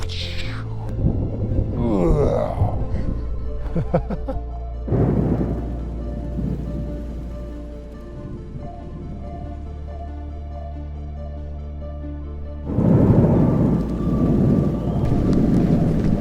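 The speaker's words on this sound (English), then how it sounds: "The whiteout was a precursor to an epic thunderstorm that was descending on the volcano" Thunderstorm on a volcano, with deep rolling thunder booming near and loud over steady rain and wind, plus a few brief voices.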